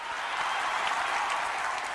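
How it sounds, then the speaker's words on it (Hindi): Steady, fairly faint applause from an awards-show audience, a dense even wash of many hands clapping with no voices. "लेडीज एंड जेंटलमैन प्लीज आपकी तालियों में"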